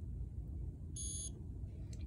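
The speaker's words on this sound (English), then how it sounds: "When the device beeps, it's ready to take a measurement." A single short, high electronic beep sounds once over a low, steady background hum.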